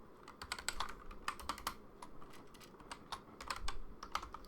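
A password is typed on a computer keyboard in quick, irregular bursts of light clicking keystrokes, quiet and close, with short pauses between runs and no talking.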